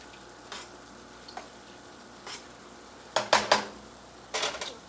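Shrimp and lobster tortilla cream soup cooks in a pot under a low, steady simmer, broken by scattered metallic clinks of a utensil against the pot and a quick cluster of scraping stirs near the end.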